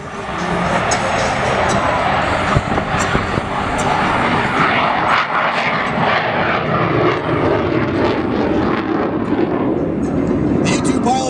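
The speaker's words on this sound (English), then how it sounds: "Call it a wheelbarrow landing, just putting it on the main gear and flying the tail wheel off the ground." A Lockheed U-2 Dragon Lady at an air show at Beale AFB rolls along on its main gear with the tail wheel held up, a loud, steady jet roar filling the whole stretch, with muffled voices faintly underneath.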